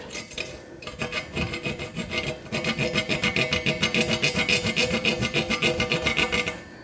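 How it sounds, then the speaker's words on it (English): A hacksaw cuts a slot in a gravel bike frame tube with steady, rhythmic rasping strokes that speed up into a fast, even back-and-forth, close and loud with no talking. "So I've got the hacksaw, so the blades are coming up like this, or the teeth is coming up like that, so it cuts when I pull."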